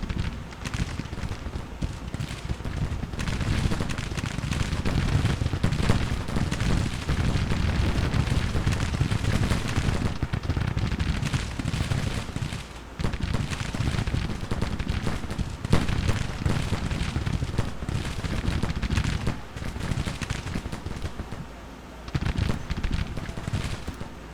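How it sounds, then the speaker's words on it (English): An artillery battery fires during a Grand Tactician: The Civil War battle, with the gunfire folded into a dense, continuous roar of battle noise that runs loud and unbroken throughout. "This battery's firing at least."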